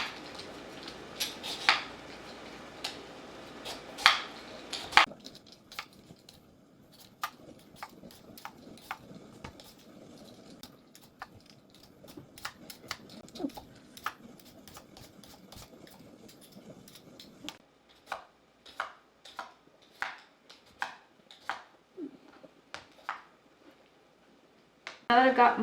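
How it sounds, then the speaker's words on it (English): Quick scraping strokes of a peeler on potatoes repeat in uneven bursts, with occasional clinks of utensils and a quieter stretch midway. "I'm gonna peel up these potatoes and get them in that boiling water"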